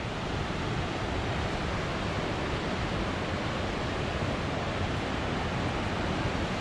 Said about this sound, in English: Got this nice little waterfall over here.